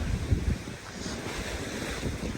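Wind gusts buffet the microphone at the seaside while surf rumbles underneath, a low, uneven roar with a few sharp bumps early on and then a steadier rushing noise.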